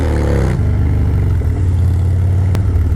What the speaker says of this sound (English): as you can see, all it's wanted to do is just burn rubber